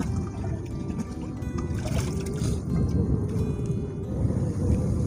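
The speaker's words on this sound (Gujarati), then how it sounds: "હવે પાછું આપણે એક ડબલું રેડ દઈશું પાણીનું" Water poured from a small container onto a cumin crop field outdoors, a steady broadband splashing gush lasting throughout, fairly loud with some wind noise.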